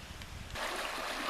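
Creek water flowing and rushing outdoors, a steady broadband wash that starts abruptly partway through after a quieter stretch, fairly close and continuous with no voices.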